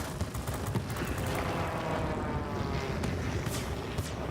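A Curtiss Hawk 81A-1, a P-40 variant fighter, drones with a dense, steady engine roar in World of Warplanes, loud and continuous with gameplay noise and no speech over it.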